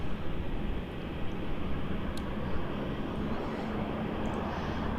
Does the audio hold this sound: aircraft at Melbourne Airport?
yes